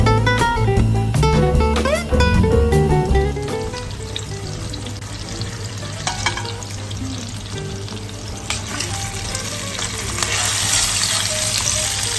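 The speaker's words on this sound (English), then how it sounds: "So we'll just sear them off until they're golden brown." Flour-coated lamb shanks searing in a hot pan, a loud sizzle that opens over music and then settles into a steady, crackling fry with faint watery sputters.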